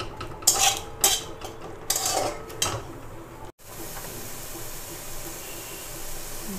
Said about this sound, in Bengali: এবার ভালো করে নেড়ে চেড়ে দিচ্ছি, কষিয়ে নেব ভালো করে।